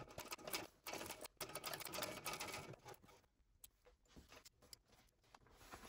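Sewing machine stitching a sturdy seam on a fabric bag at a long stitch length, running in bursts of rapid mechanical whirring separated by short pauses, fairly quiet and close.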